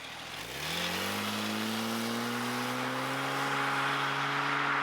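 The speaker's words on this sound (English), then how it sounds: "Let's jump in the car, take it for a drive and get to know the Turbo S in a little bit more detail." A Porsche 911 Turbo S of the 996 generation sets off and its engine note climbs smoothly, then holds a steady, fairly quiet drone from inside the car while it cruises.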